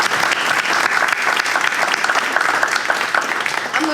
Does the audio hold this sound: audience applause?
yes